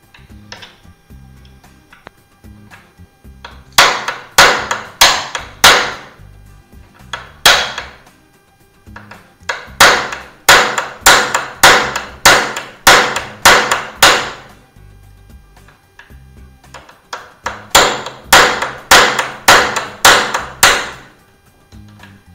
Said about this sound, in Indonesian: yang bawah kita kencangkan, kita pukul searah jarum jam